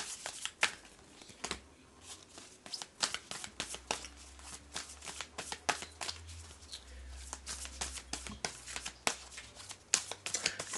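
Oracle cards being shuffled by hand, a rapid run of crisp, close riffling snaps and slaps that keeps an irregular rhythm for about ten seconds, quiet and without speech.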